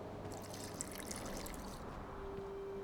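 In The Witcher 2, a little water is poured into a dye mixture of burnt lime: a faint, close trickle and splash lasting a couple of seconds over quiet room tone.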